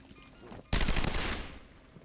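Enemy gunfire in Batman: Arkham Asylum, 2009 PC game: a sudden loud, dense burst of rapid automatic fire that breaks in after near silence, then tails off into a fading echo.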